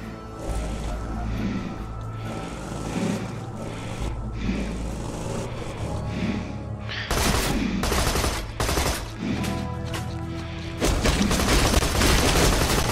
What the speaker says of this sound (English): I shot you like 50 times